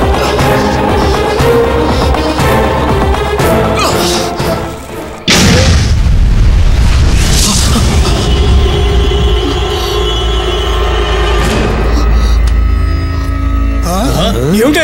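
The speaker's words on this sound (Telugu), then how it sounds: "బాంబు కాదురా, పిడుగు శబ్దం" A huge thunderclap bursts suddenly midway, loud enough to be mistaken for a bomb, and its deep boom rumbles on for several seconds over dramatic background music.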